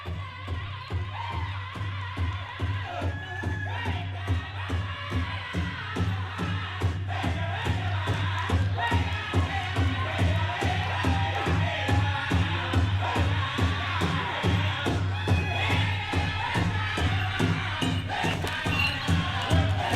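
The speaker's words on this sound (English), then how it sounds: "Round of applause!" Outdoor crowd at a National Indigenous Peoples Day powwow, cheering, whooping and clapping in a busy, continuous roar with sharp hand-claps throughout, a low steady hum beneath, and scattered shouts rising above the mix.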